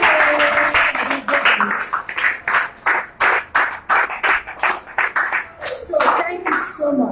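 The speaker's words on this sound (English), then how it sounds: "A round of applause for them." An audience at a stress-free hour program gives a round of applause, with loud, fairly rhythmic clapping in bursts and voices mixed in beneath it.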